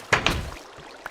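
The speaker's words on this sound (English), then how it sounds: "I love how you can punch doors down." Blocky wooden door in Minecraft being punched down, two sharp hollow thuds in quick succession followed by a fainter tap about a second later, close and distinct over a low steady background.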